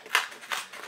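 Scissors or a blade slitting open the plastic packaging of a SanDisk 32GB class 10 memory card, two or three short close snipping rasps in quiet.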